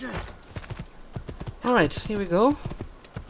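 Hooves of a horse ridden in Assassin's Creed II clop in a steady galloping rhythm beneath a voice, with louder vocal bursts partway through.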